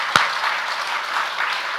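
Brief applause from a church congregation during a Sunday evening service, a steady wash of many hands clapping, opened by one sharp nearby clap.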